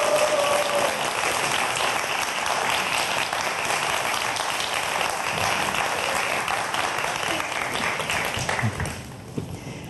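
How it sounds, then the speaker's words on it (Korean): An audience at a science lecture bursts into warm, continuous applause to welcome the speaker, thick clapping sustained for several seconds before tapering off near the end. "박수로 맞아주세요"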